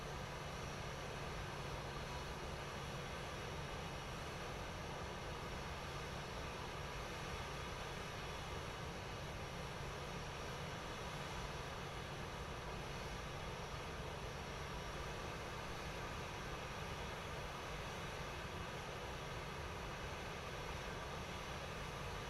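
A PMDG 737-800 airliner takes off in a flight simulator, its engines giving a steady, even jet roar and hum that holds constant throughout, with no talk.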